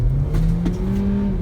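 A Kia Seltos SUV pulls away hard from a standstill, its engine rising steadily in pitch with a strong, close revving tone and some wind and road noise over the short burst.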